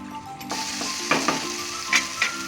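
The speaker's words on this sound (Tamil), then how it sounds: "வெங்காயமும் தக்காளியும் வதங்கிடுச்சு." Onion and tomato sauté in a pan for a Tamil fish curry, a continuous close sizzle broken by a few stirring scrapes and clinks, with no voices.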